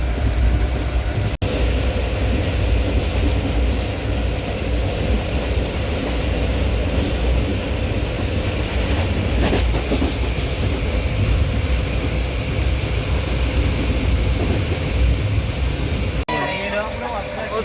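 Continuous rumbling of a train riding on rails, a loud steady drone of wheels and carriage noise with occasional clanks throughout.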